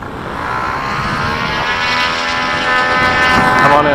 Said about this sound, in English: That was an arrestor hook landing.